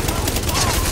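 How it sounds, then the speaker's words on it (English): Rapid bursts of automatic gunfire in The Division, dense and loud throughout, with sharp repeated reports blending into a continuous fusillade. "With all that gunfire drawing the Rikers' attention, you're gonna have a nice fat bullseye on your back."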